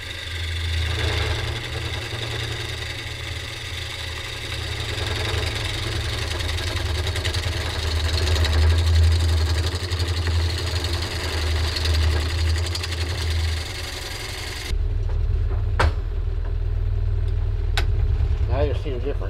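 A wood lathe turns a pecan bowl as a 5/8 bowl gouge cuts, a steady droning hum with scraping texture throughout, shifting in tone near the end.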